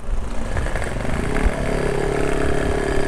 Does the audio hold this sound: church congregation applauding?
no